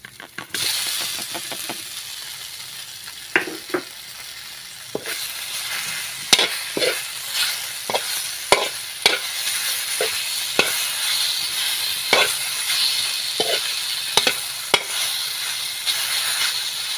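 Roasted eggplant stir fried in a pan with pepper flakes, parsley and black pepper: a steady sizzle broken by frequent sharp clacks of a utensil scraping and tapping the pan, close and moderately loud, with no talking.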